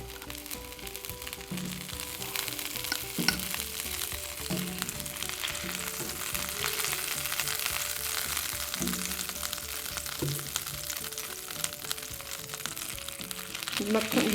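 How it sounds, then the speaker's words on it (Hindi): Desi ghee melting and sizzling in a pan while making sooji tikiya, a steady crackling fry under a continuous noisy hiss, with faint background hum and occasional clinks, fairly close. "तो सबसे पहले हम एक बर्तन में देसी घी डालते हैं।"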